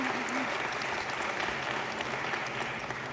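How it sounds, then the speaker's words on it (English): Steady applause from a large high school graduation audience, a dense even wash of clapping at moderate level continuing throughout without pause. "Please give yourselves a round of applause"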